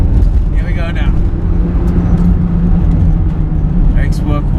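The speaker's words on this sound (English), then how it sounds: "Let's put our foot down and see what it does." A classic Datsun car accelerates hard, its engine droning loud and close throughout, with someone talking over the noise.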